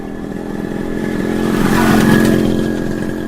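Motorcycle engine running loud and close, a rough buzzing drone that swells as it revs up, then eases slightly, with no talking.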